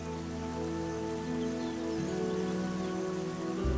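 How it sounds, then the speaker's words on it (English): Rain pours on the Serengeti savanna in a dense, constant hiss that stays level throughout, layered under a swelling musical score. "As the rain falls, tiny rivulets fill up and merge."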